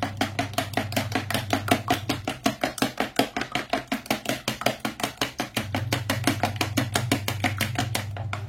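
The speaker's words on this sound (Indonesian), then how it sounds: "Kemudian kita aduk dulu telurnya" Eggs and yolks are beaten together in a bowl, a fast, steady rhythmic clacking of utensil against the bowl repeating for several seconds, close and fairly loud, with a low hum in the background.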